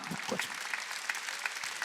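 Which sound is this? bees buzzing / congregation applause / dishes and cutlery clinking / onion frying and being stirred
congregation applause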